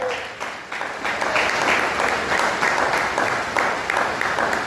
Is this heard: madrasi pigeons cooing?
no